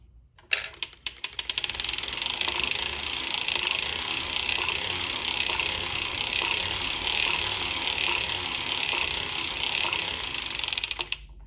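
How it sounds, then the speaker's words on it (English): Circular sock knitting machine cranked by hand to make a lace ornament, giving a fast, continuous mechanical clatter of needles and gears, loud and close, starting after a few brief clicks and stopping near the end. "I'm going to crank ahead a couple here just so I can secure that"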